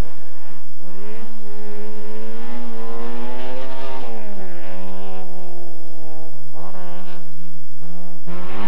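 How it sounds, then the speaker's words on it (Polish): A Group A Lada Samara rally car with a 130-horsepower front-wheel-drive engine revving hard and loud on a stage, rising and falling through gear changes with a raspy, strained tone, no voices. "Łada Samara grupy A"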